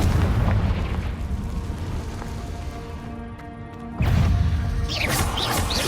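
Loud, dense booms and bursting crashes of Confringo fire spells in the video game Hogwarts Legacy, rolling continuously with a brief dip before another heavy blast.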